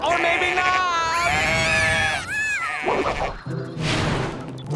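A cartoon sheep bleats in a long, wavering, high-pitched cry that stays loud and close, followed by shorter bleat-like calls and a crash, with a lively animated soundtrack and other voices around it.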